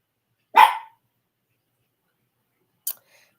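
A single loud close-up yelp from one of a litter of puppies, followed by a much shorter, fainter yip a couple of seconds later, with silence in between.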